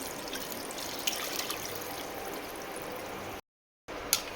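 Water poured into a pot of rice and milk, a steady close trickle and splash with a brief break near the end before pouring resumes.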